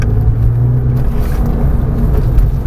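A Porsche 911 accelerates around a circuit at Marcoussis, a loud continuous low engine drone and rumble that holds steady throughout with no voices over it.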